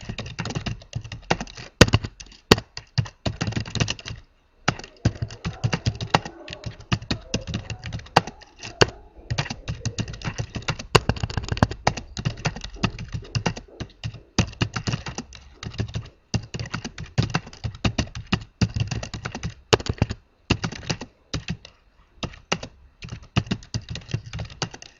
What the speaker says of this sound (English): I'm going to just quickly type in something that tells you what the plan is about.